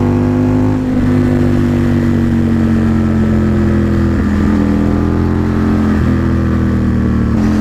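Loud, close engine of an Aprilia Tuono motorcycle under way, a steady droning pull that rises slowly with short dips at gear changes.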